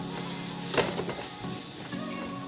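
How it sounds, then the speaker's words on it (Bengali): Shredded cabbage fries in a pan with a steady, close sizzle. A few light scrapes of stirring break through the sizzle. "এই যে বাঁধাকপি হয়ে গেছে ভাজা"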